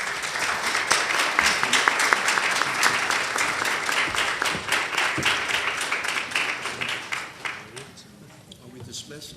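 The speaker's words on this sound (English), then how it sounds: "And now, a round of applause for the candidates." An audience at a Board of Education candidates debate applauds the candidates, a sustained burst of clapping with distinct hand claps that gradually thins and fades toward the end, with some voices mixed in.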